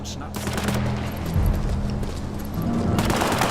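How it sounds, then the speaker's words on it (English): Gunfire in the War Mongrels video game, a dense fusillade of rapid shots crackling in bursts over a low rumbling score, with a few heavier hits standing out from the steady barrage. "The fuck they shooting at?"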